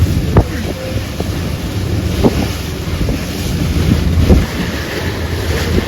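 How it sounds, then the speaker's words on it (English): Steady gusting wind buffets the microphone with a low rumble, over faint lapping water and a few knocks on a boat on Chesapeake Bay, with no talking. "it's certainly windy out"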